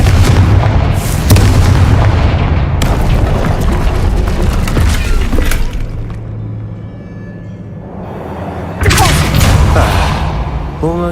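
In a video game, the Confringo spell sets off heavy, booming blasts: a cluster of loud bursts at the start, a quieter rumbling stretch, then another powerful explosion near the end, with a voice heard along the way.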